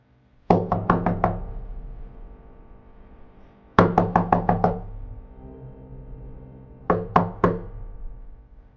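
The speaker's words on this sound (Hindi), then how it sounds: "कोई उसके कमरे का दरवाजा जोर जोर से पीट रहा था।" Loud, heavy knocking on a room door comes in three bursts of rapid, forceful blows, about five in each of the first two bursts and fewer in the last. The pounding is close and has no voices over it.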